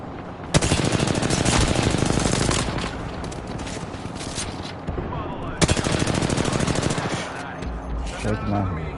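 Knuckle cluster weapons firing in a video game, two long loud bursts of rapid machine-gun-like fire separated by a brief lull, with voices chatting around them.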